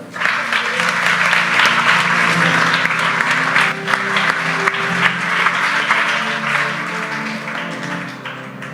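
Church congregation applauding for the Lord during a prophetic service, a steady, fairly loud wave of many hands clapping with crowd voices mixed in, easing slightly toward the end.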